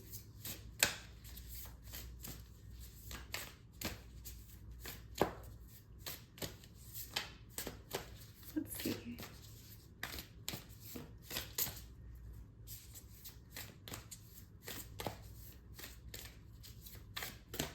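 A deck of cards being shuffled for a card reading, with repeated quick riffling and crisp snapping bursts, fairly close and steady throughout over a low background hum, no talking.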